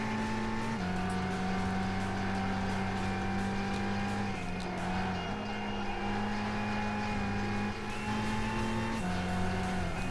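Race cars in Gran Turismo 5, a Celica racing an NSX, engines droning with shifting pitch as gears change and rivals roar nearby, steady and loud throughout with no voices.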